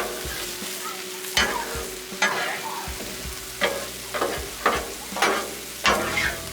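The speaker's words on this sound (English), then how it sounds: "Let's stir our potatoes up again." Potatoes frying on a Blackstone griddle are stirred with a spatula, giving about eight sharp scraping strokes at a loose, uneven rhythm over a steady close-up sizzle; no one speaks.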